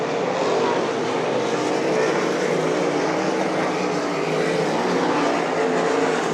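RaceSaver sprint cars race a B feature at Eagle Raceway, their engines merging into a loud, continuous roar that holds steady as the pack comes off the final corner.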